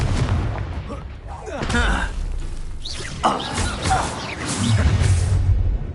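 Confringo fire spells explode in the Hogwarts Legacy video game, giving several booming bursts and whooshing blasts in quick succession, with voices calling out among the battle noise.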